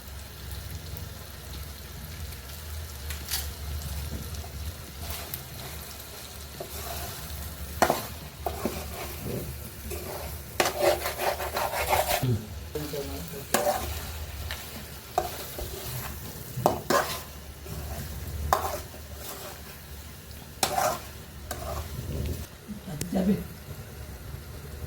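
Chicken fry with curry leaves sizzling and crackling in a pan, a steady loud frying hiss broken by repeated scraping stirs and sharp pops throughout.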